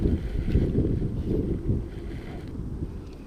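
Wind gusts over a lake beside a dock, a close, rumbling blustery roar buffeting the microphone, strongest at first and easing slightly toward the end, with no talk.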